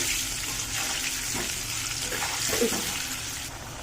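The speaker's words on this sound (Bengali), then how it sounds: "দিয়ে একটু আলুগুলোকে ভেজে নেব" Potatoes fry in a pan with salt and turmeric, giving a steady, close hiss of sizzling oil with faint scraping stirs beneath it and no voices.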